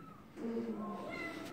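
A kitten gives a single drawn-out meow up close, moderately loud against faint room noise, with no one speaking over it.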